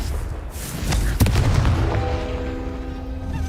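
A Confringo fire spell blasts in the Hogwarts Legacy video game, a single sharp booming explosion that rings out over rumbling game ambience and then fades into a lingering hum.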